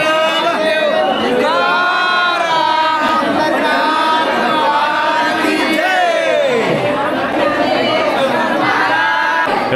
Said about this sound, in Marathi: गर्दी बघा मित्रांनो, गर्दी प्रचंड गर्दी आहे